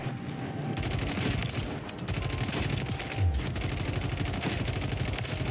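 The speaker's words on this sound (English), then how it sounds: "When have you known a Ram 7 to shoot like that?" Rapid automatic fire from a Ram 7 rifle in the Warzone video game, a continuous fast burst of shots running nearly the whole time, loud and close with a brief pause early on.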